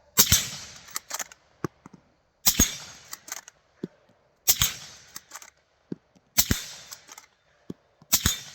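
A Ruger rifle fires from a five-round Pro Mag magazine: four sharp, evenly spaced shots about two seconds apart, each followed by quick mechanical clacks and small metallic ticks, with near silence between and no talk.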